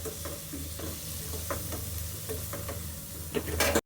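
Flaxseed roasting in butter in a pan sizzles steadily, with repeated scraping stirs and light clinks close by, and no voices.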